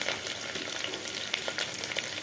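Onions sizzle and crackle in a pan with green chillies and curry leaves, a steady close frying hiss with small pops, heard on its own.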